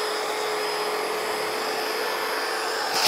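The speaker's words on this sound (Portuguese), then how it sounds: "É uma lixadeira que você tem, uma lixadeirinha pequenininha que você tem em casa para fazer polimento de carro" A small handheld car-polishing sander works on marble and granite with a little water, giving a steady, close, high-pitched whine that holds evenly throughout and rises slightly in loudness at the very end.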